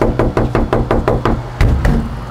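Knocking on a door, a quick run of about seven firm, evenly spaced raps followed by two more after a short pause, loud and close with no voices.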